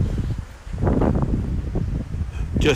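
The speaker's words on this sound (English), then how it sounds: "it's really windy up here" Strong wind gusts buffet the microphone high in the mountains, giving a steady rumbling roar that swells and surges across the whole short stretch with no other sounds.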